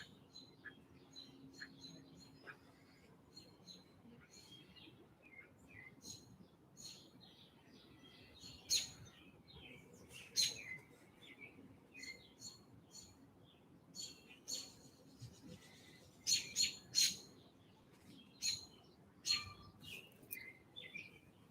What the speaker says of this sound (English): I think that mockingbird's trying to be a guest in the crow's guest house.